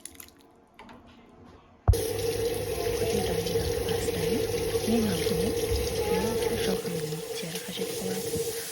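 Tap water runs steadily into a sink as ingredients for Kazakh Nauryz kozhe are washed, a continuous close splashing stream that starts abruptly after a quiet opening.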